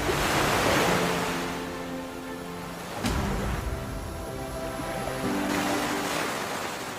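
Ocean waves in a video game wash steadily as a broad, continuous surf roar with a brief surge near the middle, carrying no voices.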